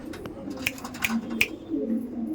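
Black Diamond pigeons kept in a Kolkata loft give soft, low cooing calls close by, a quiet murmuring with a few sharp clicks over faint room noise.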